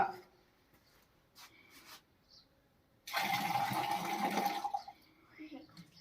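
Water pours from a small metal lota during a magic show, a steady splashing stream lasting about two seconds, with faint sounds around it before and after.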